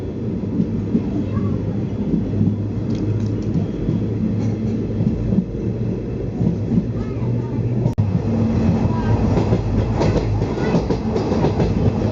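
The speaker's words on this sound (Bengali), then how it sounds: "দেখো ট্রেনটা কত বড় দেখো" A moving train rumbles steadily with a low, continuous roar and faint rattling of carriages, loud and close throughout, with a sharp knock midway.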